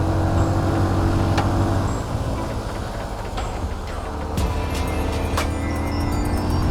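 A CFmoto 250SR motorcycle climbs a rough mountain road, its engine a loud, steady drone in low gear that dips slightly mid-ride and picks back up, with wind and road rumble under it and no speech.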